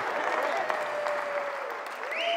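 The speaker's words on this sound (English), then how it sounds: "We'll give an applause." Steady applause from a crowd, dense clapping throughout, with a faint tone running underneath.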